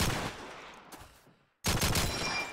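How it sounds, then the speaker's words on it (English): Trench shotgun fire in Call of Duty 2 during a competitive match, two loud blasts with a brief near-silent gap between them. "Snail, shotgun in hand, the trench gun."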